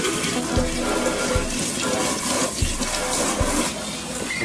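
Water running steadily from a hose or tap while a wet dog is rinsed off, a loud close continuous gush with a few soft thumps.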